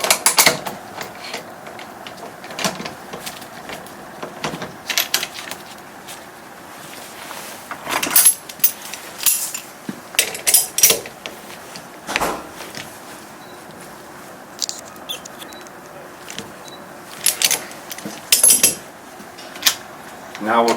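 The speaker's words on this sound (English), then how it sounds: "And then we'll go ahead and tighten it up with the Plumb-Lee wrench." Metal clinks, clanks and ratcheting as a valve is tightened with a Plumb-Lee wrench in a valve-setting workshop, irregular close taps and scrapes over low room noise.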